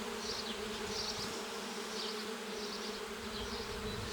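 Honeybees hum on brood frames in a hive, a soft, steady buzzing drone with small swells of wingbeat whine from individual bees and no one talking.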